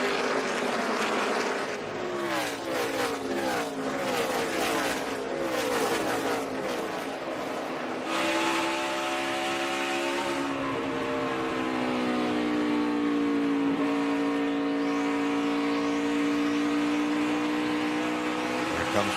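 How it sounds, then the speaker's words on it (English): NASCAR race cars roar around the track, a loud continuous engine drone with rising and falling pitch as cars pass and accelerate, swelling into a sustained high whine in the second half. "Here comes Justin Boston in that number 20 car"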